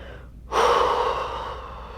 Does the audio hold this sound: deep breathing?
yes